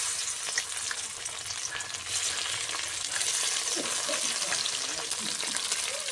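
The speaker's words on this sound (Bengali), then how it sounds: "মাছগুলোকে এখন ভেজে নেব" Small tilapia fish, including a head and tail piece, frying in oil for a tomato and potato dish, a dense continuous sizzle and crackle heard up close and alone, fairly quiet overall.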